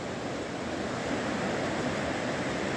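Steady rushing water from a river flowing through the hills of Uttarakhand, a continuous broadband roar without breaks, close and fairly loud.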